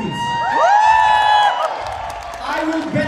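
Audience cheering and whooping at a ToyCon Q&A with the Quezon cast, a loud crowd roar with shouts and claps that swells and then fades while a voice talks over it.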